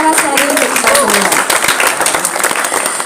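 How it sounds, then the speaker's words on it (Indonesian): Audience at a volunteer declaration event in Indonesia breaks into loud, close applause, many hands clapping densely for about three seconds, with a voice speaking through the clapping. "Boleh tepuk tangan sekali untuk kita semua."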